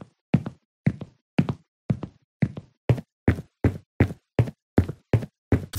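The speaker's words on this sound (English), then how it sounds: "the steps when you walk have no reverb" Dry footsteps in the video game Occupy White Walls, a steady run of about fourteen crisp, close heel strikes with no reverb tail, each cut short into silence, quickening slightly midway.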